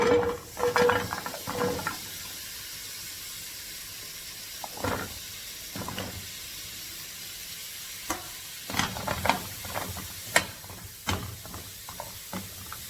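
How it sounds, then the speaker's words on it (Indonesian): Carrots are fried in a dry non-stick pan without oil for nasi Arab maqlubah, giving a steady close hiss and sizzle broken by bursts of scraping and clattering as they are stirred. "sekarang kita goreng wortel dulu"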